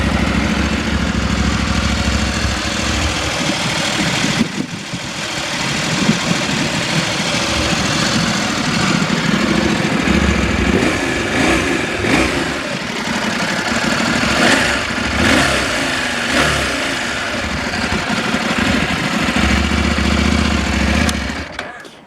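A 2020 KTM 790 Adventure R Rally limited-edition motorcycle with a parallel-twin engine idles and revs up close, a loud steady engine note rising and falling over about twenty seconds with no speech.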